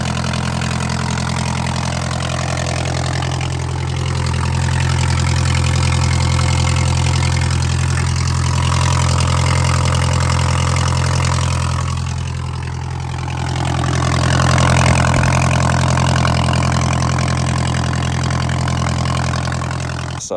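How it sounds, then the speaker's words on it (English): A car engine with a leaking turbo gasket idles continuously with a deep, rough, tractor-like rumble and a steady hiss, loud and close, swelling slightly at times. "I think the gasket on the turbo's gone, so it sounds like a tractor."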